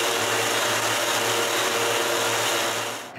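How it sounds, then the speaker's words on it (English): A power sander works over the interior of wooden cabinet trays, a steady, loud whirring hiss that runs unbroken at close range, then cuts off abruptly at the end. "After a dry fit, I can disassemble it and sand the interior of the trays."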